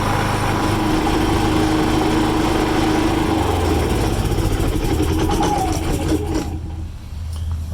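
A Predator 3500 inverter generator runs steadily at a loud, constant engine drone, warming up while surging slightly, then the pitch drops and the sound thins near the end.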